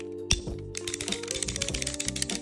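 A sharp mechanical snap followed by a quick run of rapid clicking and ratcheting as pipe-cutting shears snap open in fast repeated steps.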